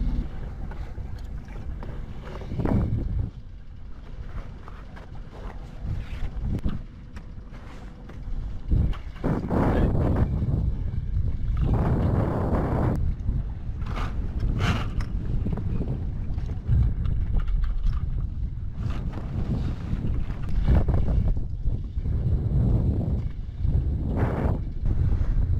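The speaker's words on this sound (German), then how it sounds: "Ich mache euch jetzt erstmal auf und setze die Segel." A sailboat under way in light wind around force 3 while jib and mainsail are set, with steady wind rushing over the microphone, water sloshing along the hull and occasional knocks and rustles of rigging throughout.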